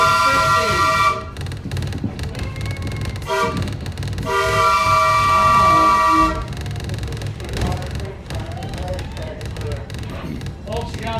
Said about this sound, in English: Folks, you gotta love the sound of the steam whistle.